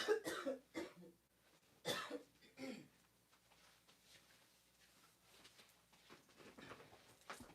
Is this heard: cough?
yes